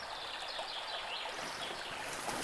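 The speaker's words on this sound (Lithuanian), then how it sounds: "Vanduo teka per akmenis." Small forest stream flowing over stones, a soft, continuous babble and trickle of water heard close by and quietly, with faint birdsong in the background.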